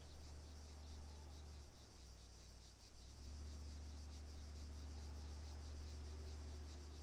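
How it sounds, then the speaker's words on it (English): A tank engine in the Arma 3 military game hums with a low, steady rumble under faint hiss, swelling slightly louder partway through and holding there. "Yeah, I hear a tank."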